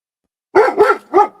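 A pet dog barks three times in quick succession, close and loud, with short gaps between each sharp bark and no talk over it.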